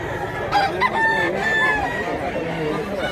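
A rooster crows nearby, one drawn-out call with a few clucks and other fowl sounds around it, over a busy background with people talking.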